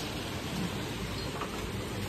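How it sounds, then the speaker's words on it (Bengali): Large hailstones fall during a rainstorm over a garden, making a dense, even patter of impacts at low level with no voices. "বড় বড় শিল পড়ছে"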